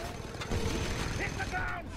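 Mounted gun firing in the video game Just Cause 2: rapid, continuous bursts of automatic fire with mechanical clatter under loud battle noise, with voices shouting over it.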